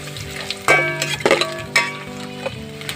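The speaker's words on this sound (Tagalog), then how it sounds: "Then pag mainit yung mantika, ilagay na natin yung dilis natin." Dried anchovies (dilis) frying in hot oil for Ilocano-style laing give a steady close sizzle, with a few sharper bursts of crackle and stirring clatter from the pan.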